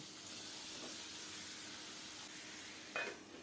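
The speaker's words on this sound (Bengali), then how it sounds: "লবণ হলুদ মাখিয়ে লাল লাল করে ভেজে নেব" Rui fish head rubbed with salt and turmeric fries in hot oil, giving a steady close hiss and sizzle throughout, with a brief louder spatter near the end.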